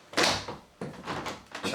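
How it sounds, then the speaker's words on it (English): A UPVC door swings shut with a muffled thud, followed by a few rattling clunks as it settles and latches. "So we can now close the door."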